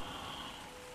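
Steady rain patter in the video game ARK, with a soft hiss across the whole second, fairly even and continuous, with no voices.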